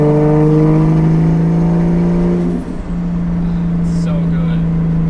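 A manual-swapped Toyota Soarer with a Gen 2 3071 turbo revs hard up close, its engine tone climbing in a loud sustained pull before easing off, followed by a brief hiss and a chirp.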